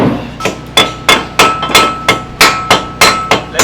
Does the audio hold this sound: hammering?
yes